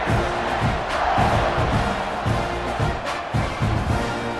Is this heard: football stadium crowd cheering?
yes